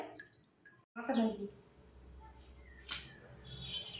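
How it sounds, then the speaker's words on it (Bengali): Raw green mangoes being washed in water, with splashes and drips and a bright clatter of fruit against a bowl, close and quiet with pauses between handling sounds. "তো আমগুলো ধুয়ে নিচ্ছি, একবার ধোয়া আছে আর একবার ধুয়ে নিলাম ভালো করে।"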